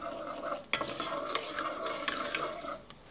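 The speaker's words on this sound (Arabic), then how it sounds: "4 حبات هيل، 4 حبات قرنفل أو مسمار، معلقة كبيرة كزبرة حب. بحمصهم دقيقة مع السمن." Cardamom pods, cloves and coriander seeds are stirred and toasted in hot ghee for Omani chicken qabooli, giving a soft continuous sizzle broken by light scraping and clinking of a spoon against the pan.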